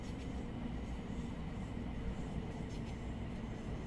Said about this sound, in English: I can hear a little bit more train noise now